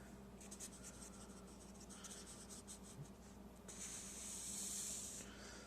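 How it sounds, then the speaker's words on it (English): A marker or pen draws on a board in a quiet room, giving soft, brief scratchy strokes in quick succession, then one longer, louder hissing stroke near the end. "So I'm drawing"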